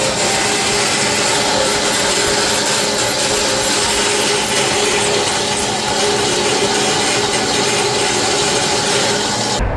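A drill bores holes into a beam for 1.5-inch inserts on a 1969 VW Bus engine and transmission cradle, a loud continuous grinding, rasping roar running steadily for about ten seconds with no talking.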